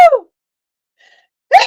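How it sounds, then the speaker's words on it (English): A single person's sneeze bursts out loudly near the end, preceded by a short breathy build-up at the start and a near-silent pause between. "I'm about to sneeze."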